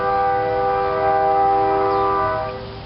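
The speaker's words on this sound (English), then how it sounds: "A couple of toots of horn means that train's getting ready to leave town." Diesel train horn sounding a sustained, harmonically rich blast from a train idling on a siding nearby, as it readies to leave town; one long steady tone lasting nearly three seconds, moderately loud and slightly distant.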